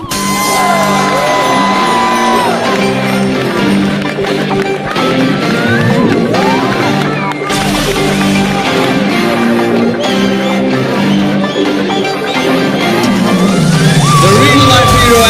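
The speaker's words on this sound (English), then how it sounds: "give a huge round of applause for the 72nd Miss World Humanitarian Award winner, Sonu Sood" A large crowd at the Miss World 2025 grand final in Hyderabad cheers and shouts loudly and continuously over blaring music, with whoops rising through the din.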